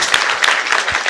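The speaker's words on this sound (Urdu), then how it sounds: "آپ نے تالی کا زور لگائی ہے" Steady burst of audience applause in a hall, a dense wash of many hands clapping at once, loud and continuous without pause.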